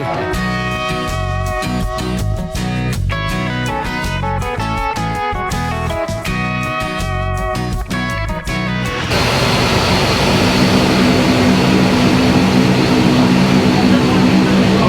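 Steady, loud airplane engine drone inside a small aircraft flying toward the Everest region, a broad continuous roar that swells into a denser rush in its final stretch.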